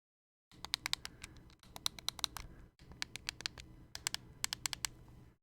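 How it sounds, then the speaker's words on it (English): Clicky triggers and face buttons on a modded Nintendo Switch controller pressed in quick bursts of sharp, close, quiet clicks, several rapid presses in each group with short pauses between. "The triggers are all clicky, like you can hear. And most importantly, the face buttons are also clicky."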